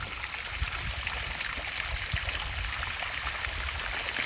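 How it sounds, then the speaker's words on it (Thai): A garden water fountain running steadily, with a continuous close splashing and trickle of falling water that holds even and unbroken throughout. "เปิดน้ำพุนะครับ"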